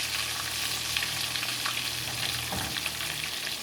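Pollock fillets coated in almond flour fry in a pan with a steady close sizzle and crackle, with a brief scrape partway through and no talking.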